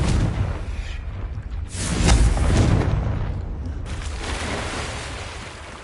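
A Confringo spell blast in Hogwarts Legacy on PS5: a broad, rumbling boom swells after a couple of seconds and slowly decays, with a second lower surge of rolling noise later, all fairly loud and dense with no voices.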